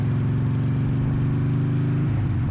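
Motorcycle engine droning steadily while the rider shifts up through the gears, a loud continuous rumble close by whose pitch settles and then shifts near the end, no speech.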